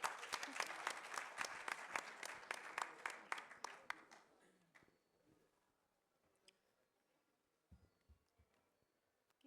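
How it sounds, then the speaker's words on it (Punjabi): Audience at an international Punjabi music conference bursts into dense applause that fades over about four seconds, leaving a quiet room with a few scattered claps and faint rustling. "ਤਾਲੀਆਂ ਵਜਾਓ ਜ਼ਰਾ।"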